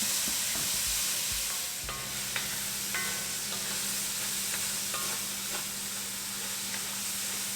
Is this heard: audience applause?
no